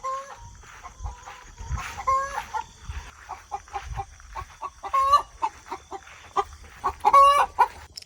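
Chickens, roosters and pullets squabble in a coop, giving close, loud bursts of clucking and squawking in irregular runs, with louder calls near the end and no speech.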